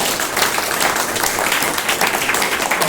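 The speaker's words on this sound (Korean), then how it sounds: "이분들에게 박수 한번 크게 보내주십니다." Dense, sustained applause fills a hall at a Korean Christian seminar graduation ceremony and talk concert, with many hands clapping evenly and loudly and no speech on top.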